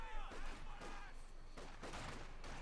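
Soviet conscript infantry in Company of Heroes 2 open fire in a battle against grenadiers: quiet, distant rattling rifle volleys crackle in overlapping bursts, with a voice talking over the fighting.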